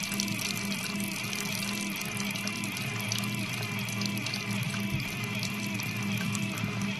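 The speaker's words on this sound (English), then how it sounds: "we're going to go ahead and pump this in. And this will take a while, the slower pumping rate" A pump draws groundwater from a shallow well at a slow rate for sampling, giving a steady, continuous hum with rushing water that holds level throughout, close and unbroken.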